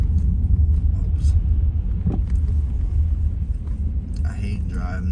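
A car driving along a snowy road gives a steady, close low rumble throughout, with brief knocks and a sharper clatter near the end.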